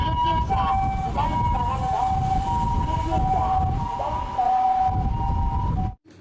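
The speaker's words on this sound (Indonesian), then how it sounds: "Ini mobil ambulan." A toy ambulance gives a loud, close electronic siren with a repeating rising and falling wail that continues steadily and then cuts off abruptly at the end.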